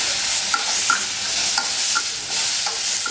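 Coriander powder and tomato are stirred as they fry in a pan, a loud continuous sizzle broken by regular scraping strokes of the spoon, close up with no talk.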